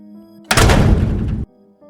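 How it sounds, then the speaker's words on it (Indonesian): Door closing by itself in an audio drama, a single heavy slam-thunk bursting in loud, ringing for about a second over a quiet musical background before cutting off abruptly. "Pintu tertutup dengan sendirinya."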